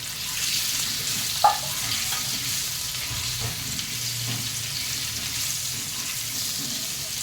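Baby potatoes fry in a pan with chillies over a low flame, giving a steady close sizzle with a brief clink and faint stirring noises, and no talk.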